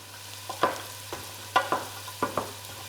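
Croutons being stirred in a hot pan, a faint background sizzle broken by several sharp scraping and rattling strokes at an uneven rhythm, close by over a low steady hum.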